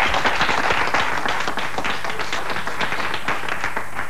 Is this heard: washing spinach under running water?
no